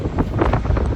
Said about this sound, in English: Windy as hell out here.